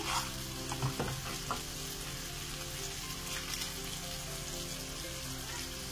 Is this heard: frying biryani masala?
yes